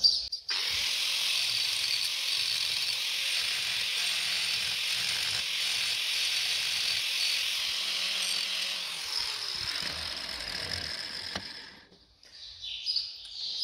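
An angle grinder bites into metal during maintenance of a CASE CS 94 tractor's linkage rods, a sustained harsh hissing grind running close and steady for about eleven seconds before cutting out into near silence.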